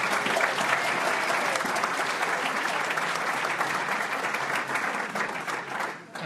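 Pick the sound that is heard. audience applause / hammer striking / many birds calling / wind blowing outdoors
audience applause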